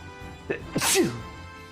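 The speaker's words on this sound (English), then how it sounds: "Oh, I sneezed in my helmet." A person wearing a helmet with a visor sneezes once, a short sharp burst after a quick intake of breath, close and muffled.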